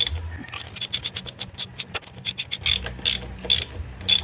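A ratchet clicks in quick bursts of rapid ticks while tightening bolts on a Yamaha motorcycle engine, close up with short pauses between strokes.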